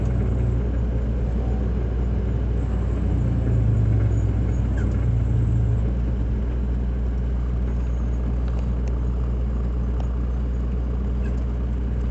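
Camaro driving slowly through stop-and-go highway traffic, with a steady low engine and road rumble heard from inside the cabin that swells slightly partway through.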